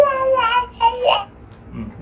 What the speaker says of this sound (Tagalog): naririnig niyo ba yung baby talk niya?